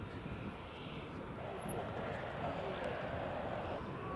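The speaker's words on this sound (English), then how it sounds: "That's PC12 is just departing there." A Pilatus PC-12 turboprop departs Glasgow Prestwick Airport, its engine a steady, broadband roar holding evenly throughout at moderate distance, with faint voices murmuring beneath.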